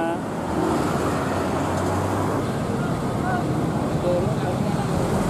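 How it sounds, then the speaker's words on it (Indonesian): A long-distance bus arriving at a Jakarta station brings a steady roar of engine and road traffic, with muffled voices in the background. "itu bus gue datang"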